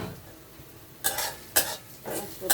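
Fish head fries in spices in a pan, a low sizzle punctuated by three or four bursts of stirring and scraping against the pan, close by with no talk.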